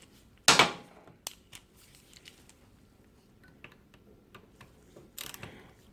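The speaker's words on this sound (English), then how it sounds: "that's the drain screw that we've got to undo, and that's going to drain the oil out of the frame" A 4mm Allen socket clicks and ratchets while undoing the oil drain screw on a 2006 KTM 640 LC4 motorcycle frame, with a sharp metallic knock at the start and sparse faint clicks after, quiet and close.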